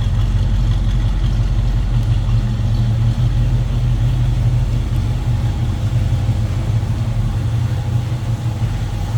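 A 1968 Chevrolet Camaro RS idles through a dual exhaust with chrome tips, giving a steady, deep, close rumble that holds evenly throughout with no talking.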